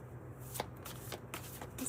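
Tarot cards shuffled by hand in a quiet room, a series of soft riffling bursts and papery slaps repeating several times at close range, with no talking.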